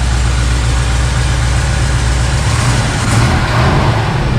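A 1961 Pontiac Laurentian engine idles steadily and smoothly, a loud, close, continuous low rumble with no talking over it.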